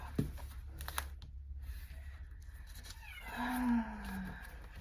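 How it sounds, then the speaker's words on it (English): A cat meows once, a drawn-out falling cry rising above quiet room noise, preceded by a few soft taps and rustles. "You can probably hear her meowing in the background."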